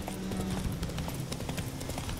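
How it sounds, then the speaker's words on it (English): Horse hooves clip-clopping in The Witcher 3 video game, a steady run of hoofbeats at moderate volume with a continuous low background rumble, no talk. "this was a thing where you could just let your horse go"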